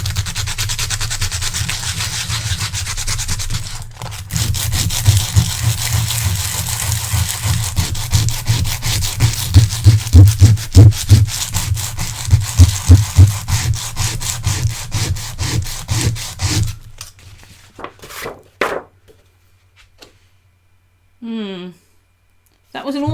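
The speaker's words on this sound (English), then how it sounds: "apparently you can sand the surface" Sandpaper is rubbed over a paper surface for junk journal pockets, a loud rhythmic scratching of rapid back-and-forth strokes that stops near the end, with a voice heard briefly afterward.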